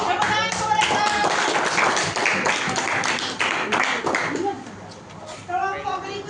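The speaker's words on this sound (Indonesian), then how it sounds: "Tepuk tangan untuk mereka." An audience claps for a student group that has just finished presenting in class, a dense burst of hand claps that thins out after a few seconds, with voices talking over it.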